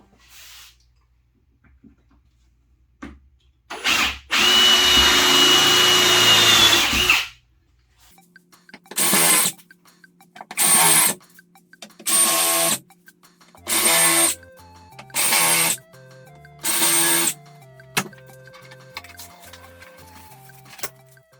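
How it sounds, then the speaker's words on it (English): Countersink drill bit boring holes into a wooden table: one long whining burst followed by six short, evenly spaced bursts, loud and close, with no talk. "Again, using our countersink drill bit, let's drill some holes."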